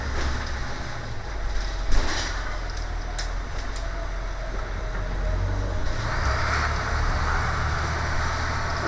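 Inside a moving city bus on a rainy night, a steady, dirty engine rumble and road roar fill the cabin, with a few rattles and bumps and no voices.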